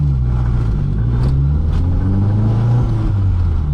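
A K Jazz race car on heavier wheels accelerates hard, its engine note climbing in pitch as it revs up, loud and close with a steady droning rumble underneath.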